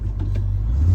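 A Ford Bronco V6 turbo crawling off-road in low range, second gear, rear diff locked: a close, loud, steady low engine rumble with slight revving over one second.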